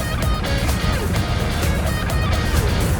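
Remapped Alfa Romeo Giulia Quadrifoglio running on a road-going dyno power test, a steady broad engine roar held throughout with faint harmonic tones, moderately loud and continuous.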